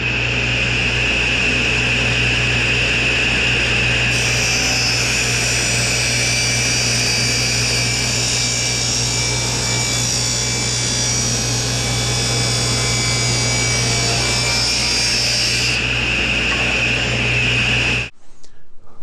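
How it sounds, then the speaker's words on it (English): A power saw rips a wooden 2x4 into 3/4 inch strips, a loud continuous whining roar sustained for about eighteen seconds before cutting off, with no talking. "we need to go ahead and rip our 2x4 into 3/4 inch wide strips"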